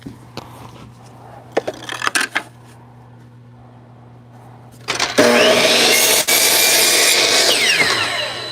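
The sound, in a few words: miter saw cutting wood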